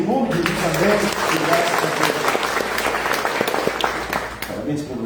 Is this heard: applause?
yes